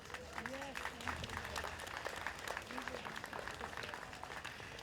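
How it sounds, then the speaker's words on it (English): A church-like audience at a Texas march of remembrance breaks into a brief round of applause, scattered clapping rising under a voice that keeps talking. "let's give the Lord a hand clap"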